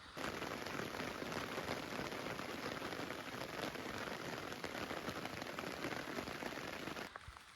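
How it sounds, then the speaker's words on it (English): Steady rain pours down in a garden, a dense even patter on surfaces that holds constant and then cuts off near the end. "It's raining."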